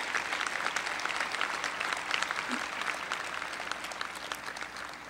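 Steady, full audience applause at a university honors convocation for finalists for an outstanding graduating senior award, dense clapping throughout at an even level.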